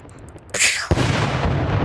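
Cannon firing in the Roblox-style game Ragdoll Engine: a sharp burst followed by a second loud boom and a lingering rumbling tail.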